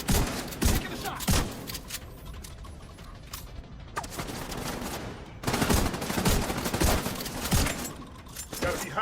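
Gunfire in The Division 2 shooter game, repeated loud shots and rapid bursts in a busy firefight, easing briefly in the middle before heavy shooting resumes, with occasional voices.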